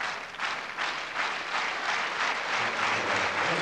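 A crowd applauds steadily at a 1989 table tennis match, a dense, sustained wash of clapping that fills the hall without pause.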